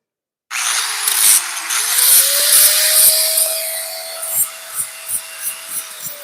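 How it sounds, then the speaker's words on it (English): A power drill bores out holes in metal scroll tongs: a close, loud motor whine that rises in pitch as the bit bites, with grinding rasps, ending in a series of short rhythmic pulses. "I might just need to drill them out."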